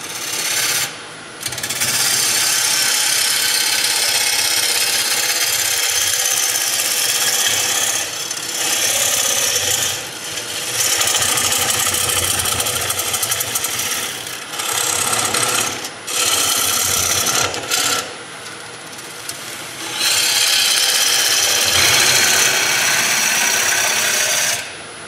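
A power drill boring a hole into a homemade dehydrator, a loud continuous grinding whir running for long stretches with brief pauses and restarts, close up with no talking.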